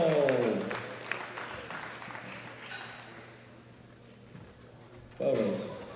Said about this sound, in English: big round of applause for the gold medal winner